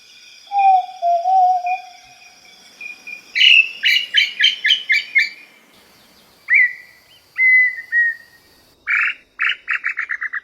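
Tinamou song: a low, mellow whistled note first, then clear piping whistles and rapid stuttering series of sharp notes, loud and close in a quiet setting.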